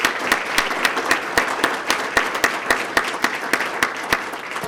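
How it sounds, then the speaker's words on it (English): An audience at a swearing-in and promotional ceremony applauds steadily, a dense crackle of many hands clapping with some distinct individual claps standing out, continuous and fairly loud throughout with no speech. "let's give these individuals another round of applause"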